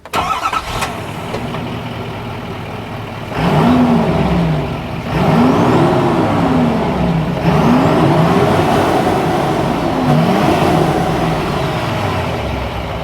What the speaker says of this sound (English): it wouldn't be a diesel if you couldn't shove your fist all the way up to your elbow in the exhaust. Let's see how that sounds.